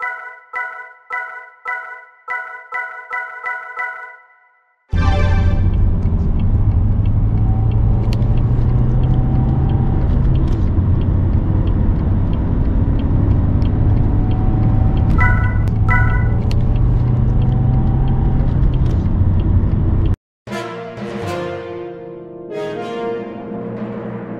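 A 2017 Volvo V60 D3 with a 2-litre diesel engine drives on the road, its steady interior engine drone and road rumble loud and continuous for about fifteen seconds, bracketed by brief musical tones before and after.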